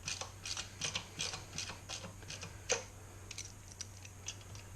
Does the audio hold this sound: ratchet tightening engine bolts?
yes